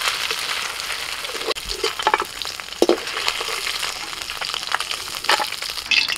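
Oil sizzling hard in a wok over an earthen clay stove as bay leaves, dried red chillies, panch phoron and chopped onion fry, a steady crackle broken by sharp stirring scrapes and pops.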